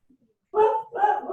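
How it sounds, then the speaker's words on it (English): A dog barks indoors, giving two quick, fairly close barks after a faint short yip, heard alone without talk. "my dog went off"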